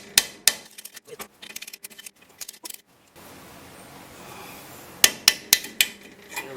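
Sharp metallic knocks strike a brake part on a Beetle to free it, first in quick uneven bursts. Then comes a few seconds of low rustle, and a final run of louder close taps.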